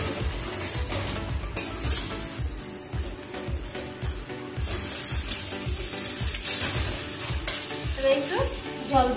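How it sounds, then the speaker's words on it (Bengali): Pomfret fish dropped into spiced masala frying in a pan, a dense, steady sizzle with repeated scraping stirs throughout, close and fairly loud. "মশলাটা কষানো হয়ে গেছে, এবার আমি এর মধ্যে মাছটা দিয়ে দিচ্ছি।"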